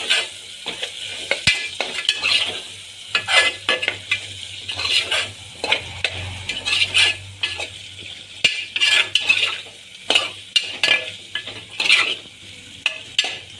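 Potatoes being stirred into frying masala in a pan, repeated loud scraping and clattering strokes of a spoon against the pan over a low sizzle, in uneven bursts with brief pauses.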